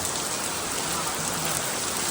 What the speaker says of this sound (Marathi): अचानक भयानक पाऊस चालू झाला भावांनो